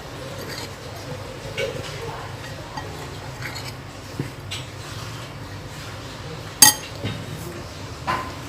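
Spices and garlic-ginger paste for chicken pakora are mixed in a bowl. A utensil scrapes and clinks lightly against the dish over and over, with one sharp clink standing out near the end.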